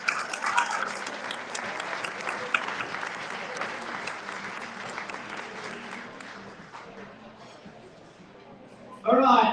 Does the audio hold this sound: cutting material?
no